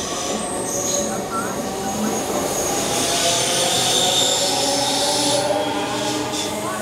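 The Highland Chieftain passenger train passes through Haymarket station with loud wheel squeal and rumbling rail noise, a steady roar with high screeching tones, while a voice speaks faintly underneath.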